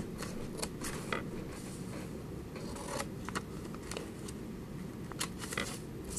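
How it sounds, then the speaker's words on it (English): Scissors snipping along the crease of folded paper: a steady run of close, soft crunching cuts and paper rustle against a dull low background hum, with no voices. "just cut along the crease"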